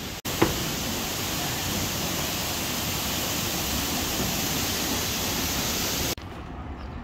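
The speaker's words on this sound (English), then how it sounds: "Rock formations and a waterfall." A waterfall pouring among rock formations in a city centre gives a steady, dense rushing roar that holds level throughout and cuts off sharply near the end.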